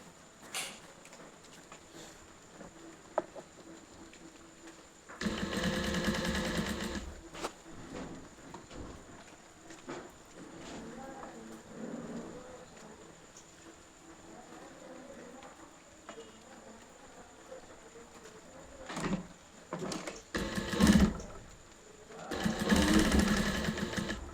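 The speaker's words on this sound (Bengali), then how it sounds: "সুন্দর করে গুছিয়ে দিয়ে সেলাই করতে হবে।" A sewing machine stitching scraps of cloth into a seat mat runs in several short bursts of rapid mechanical whirring, separated by quieter stretches of handling noise and faint rustling.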